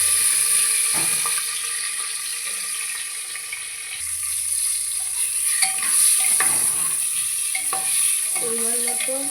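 Potatoes fry in a little oil inside a pressure cooker over low gas, a continuous sizzle broken by repeated scraping and stirring knocks, with no one talking.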